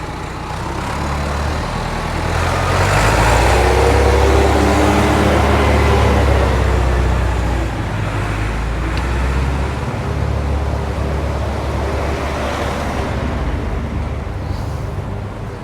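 A tractor on the N59 road passes as a loud, steady low engine rumble that swells and then slowly recedes under continuous road and wind noise.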